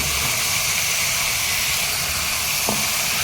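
Half a kilo of mutton hits hot oil with curry leaves, a loud, continuous hissing sizzle that holds steady throughout, close up, with a faint knock near the end and no talking.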